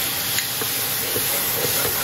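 Sauce poured into a hot pan of sautéed ingredients for a Chinese dish sets off a loud, continuous hissing sizzle that holds steady throughout, with no voices.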